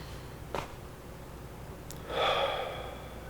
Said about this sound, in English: Take a breath or two.